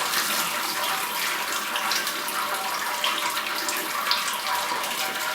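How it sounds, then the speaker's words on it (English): Sparge water poured down the centre of the grain bed in a Grainfather all-in-one brewer, a steady close splashing pour that runs continuously without talk. "Let a little bit of pouring sparge water down the centre."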